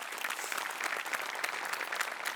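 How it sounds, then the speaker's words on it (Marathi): A studio audience at a Marathi comedy show claps, a dense, even burst of applause that holds steady for the whole stretch. "पुन्हा एकदा जोरदार टाळ्या."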